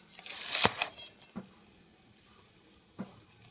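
A spoonful of oil heating in a hot flat pan, a short burst of sizzling hiss at the start that fades, followed by a couple of faint clinks.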